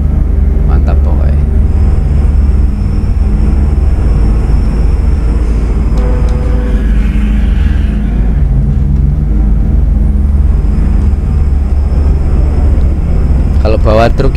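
A heavy truck engine in a video game drones steadily with deep low rumble throughout, straining under load while climbing uphill, as someone talks over it.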